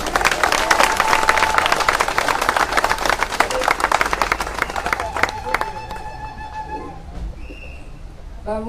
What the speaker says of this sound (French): je voudrais d'applaudir la députée, Madame Ramassamy,